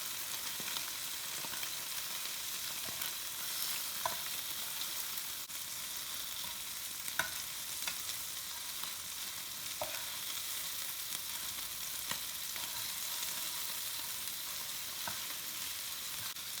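Meatballs for red sauce fry in a pan with a steady, even sizzle throughout, broken by faint occasional taps and light scrapes as they are turned a quarter at a time.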